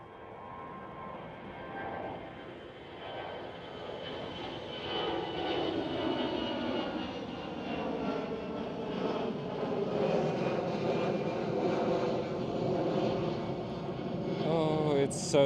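An EasyJet airliner at Amsterdam Schiphol Airport produces a rising jet-engine whine over broad roaring noise that swells steadily louder toward the end, heard from a moderate distance.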